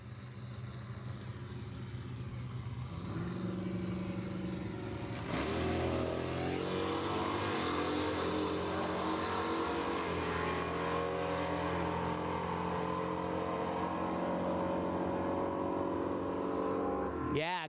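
Mopar drag race cars launch off the start line at Rad Torque Raceway, engines droning steadily and then surging louder into a sustained high-revving roar that holds for several seconds, with a trackside announcer's voice faintly mixed in.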